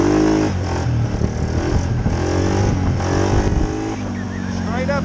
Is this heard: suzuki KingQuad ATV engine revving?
yes